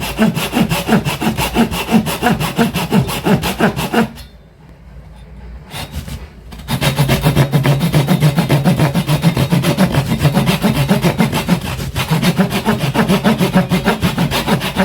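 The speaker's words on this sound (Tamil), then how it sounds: "இப்படி நம்ம இந்த வுட்டை இப்படி கட் பண்ணி பார்க்கலாம்." A 9-inch pull saw cuts through wood in steady rhythmic rasping strokes, close and loud, with a short pause midway before the sawing resumes.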